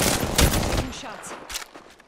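Rapid gunfire in Apex Legends, a quick burst of sharp shots at the start that tails off into a few scattered cracks, close and loud, with a voice briefly heard in the mix.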